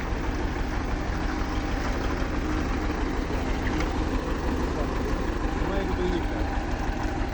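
Restored KTN machine running with a steady low engine drone and a continuous mechanical rumble throughout, loud and close, with no clear talk over it.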